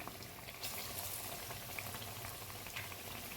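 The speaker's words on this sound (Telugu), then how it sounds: "ఇలా మీడియం మంట పైన పెట్టి క్రిస్పీగా బాగా వేయించుకోవాలి ఆలు" Potato bajji deep-frying until crisp over a medium flame: a dense, even bubbling and crackle of hot oil, close and continuous throughout.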